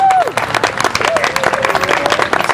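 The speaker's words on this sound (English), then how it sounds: "let's have another round of applause for them." Applause from an audience at the Founder's Corner dedication ceremony, steady clapping throughout with a short tonal sound at the start and some voices mixed in.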